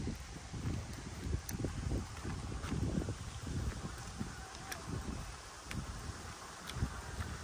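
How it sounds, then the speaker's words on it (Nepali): Wind blowing outdoors across a sunny tea garden in Ilam, a steady soft rustling and gusting roar that stays fairly quiet and continuous throughout, with no talk. "सँगसँगै हावा पनि चल्दैछ।"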